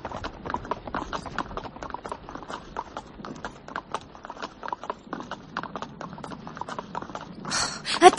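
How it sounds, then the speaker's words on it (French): Horse hooves clip-clop steadily at a walking rhythm as a rider approaches and draws near, the rhythmic hoofbeats sounding clearly throughout with a brief louder rustle at the end. "la voici qui arrive à cheval"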